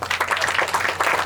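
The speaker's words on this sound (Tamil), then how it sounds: "பலத்த கரகோஷங்கள்." Audience applause at a Tamil film event honoring a movie's director, dense clapping running steadily through a brief burst, fairly loud and close, with no voices on top.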